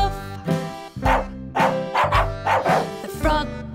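A dog barks several times in short bursts, set inside a bright children's nursery-rhyme song with steady music throughout.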